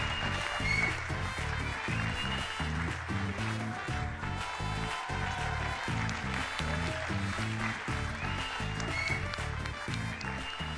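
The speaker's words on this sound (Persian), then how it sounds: "خواهش میکنم وحید خاکی رو تشویق کنیم" A theatre audience at a comedy talent show applauds loudly and steadily for the comedian Vahid Khaki, the dense clapping holding for about ten seconds with no break.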